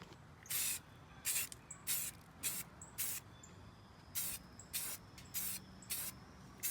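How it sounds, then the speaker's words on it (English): Repeated short bursts of a spray paint can hissing while spraying flat-finish paint and primer, about ten sprays in a steady rhythm with brief pauses between, close and fairly loud. "So let's get spraying."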